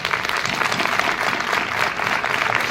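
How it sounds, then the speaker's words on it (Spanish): Loud, dense applause from an audience at a gathering of the Asociación Ex-alcohólicos de Fuenlabrada, a continuous wash of many hands clapping close by, with no voices over it. "Entonces yo creo que os merecéis un aplauso vosotros muy fuerte también."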